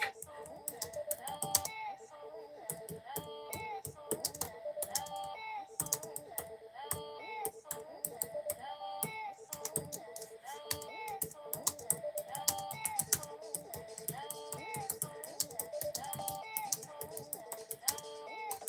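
Steady typing on a computer keyboard, quick irregular key clicks close to the mic over a faint background tone, continuing with short pauses and no talk.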